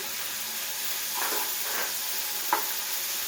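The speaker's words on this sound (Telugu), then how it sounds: "అల్లం వెల్లుల్లి పేస్ట్ 1 స్పూన్ వేసి ఇది కూడా ఇలా వేయించుకొని" Ginger garlic paste frying with tomatoes for a village-style tomato chicken pickle gives a constant hissing sizzle, with a few soft stirring scrapes and one brief clink of a spoon against the pan.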